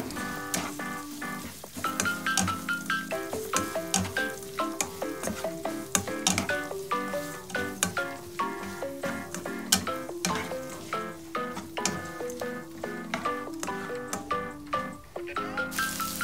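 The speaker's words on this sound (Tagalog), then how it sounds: "Igigisa natin siya hanggang sa medyo maging golden brown na rin siya." Chopped onions sauté in hot oil in a pan for adobong sitaw, sizzling and crackling continuously up close, with irregular stirring scrapes and pops throughout.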